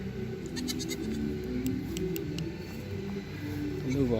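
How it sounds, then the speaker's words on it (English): Goats at an outdoor Christmas lights display give soft bleats at a moderate distance over a steady low background hum, with no voices heard. "There's the goats."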